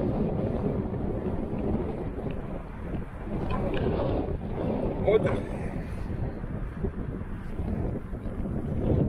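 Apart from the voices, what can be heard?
wind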